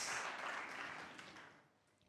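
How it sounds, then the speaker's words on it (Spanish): A church congregation applauds during worship, dense continuous clapping at full strength that gradually fades over a couple of seconds, with no voices on top. "Fuertes aplausos a nuestro Dios."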